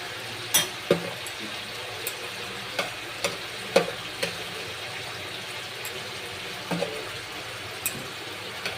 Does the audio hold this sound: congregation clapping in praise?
no